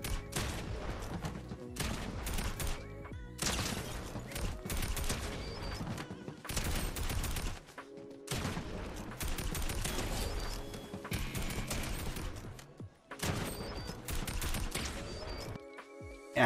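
Shotgun blasts ring out rapidly during close-range aim duel practice against a bot in a shooter video game, a dense, loud barrage of repeated shots with brief pauses between bursts.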